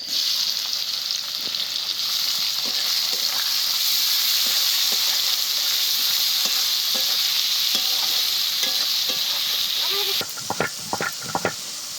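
Chopped onions dropped into hot oil already fried with whole garam masala, cumin seeds and dried red chillies, a loud, dense, continuous sizzle close by, ending in a run of sharp spoon scrapes against the pan.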